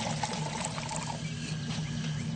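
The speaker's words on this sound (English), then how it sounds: "Now pour some very hot water into the lower part of the bottle." Very hot water pours into the cut-off lower half of a 2-liter plastic pop bottle, a steady close splashing wash that runs unbroken for a couple of seconds.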